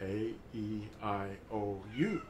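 A pet cat meows once near the end, a short rising-falling cry close by, following a person speaking slowly indoors.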